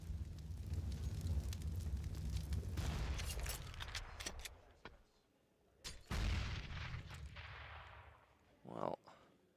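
Grenade blasts and gunfire in a CS:GO match: loud, rumbling booms and sharp bursts in the first half, then a quieter stretch broken by two more blasts, with commentators talking underneath.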